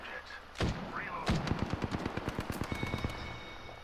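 A video game firefight opens with a couple of heavy shots, then a rapid, evenly spaced machine-gun burst of around twenty rounds, loud and close, with faint voices in the mix.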